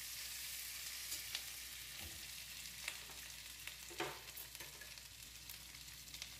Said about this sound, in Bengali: চিংড়ি মাছ ভেজে রাখা তেলে দিয়ে দিচ্ছি রসুন বাটা, আদা বাটা